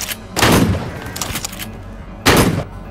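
Gunfire in a Matrix-style office parody scene, two loud close bursts of shots about two seconds apart with a rattling, clattering spread between them.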